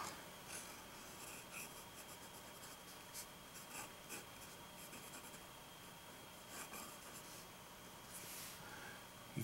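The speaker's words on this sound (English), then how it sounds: "So let's go ahead and put nib to paper." Broad stub-nib fountain pen writing across paper, a steady soft scratching that runs continuously at close range with small bursts of rasp as strokes change direction.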